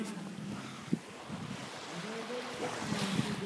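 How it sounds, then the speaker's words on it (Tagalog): Sea waves at Bagac beach wash in with a soft, continuous roar, mixed with wind buffeting the microphone, with a couple of brief knocks heard near and low. "Narinig nyo naman yung alon."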